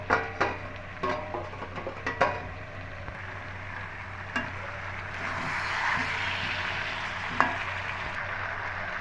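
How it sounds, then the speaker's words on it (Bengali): Mutton curry being stirred in a covered kadai, a few scraping clanks of a spoon against the pot early on, then a soft steady sizzle with an occasional knock, close by. "আমি মাংসটা একটু নেড়ে দেবো নাহলে তলা লেগে যাবে"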